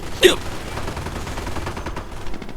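Gunfire rings out in a World War II strategy game as Sherman tanks attack German Grenadiers: one sharp, loud burst near the start, then scattered fainter shots and battle noise trailing off.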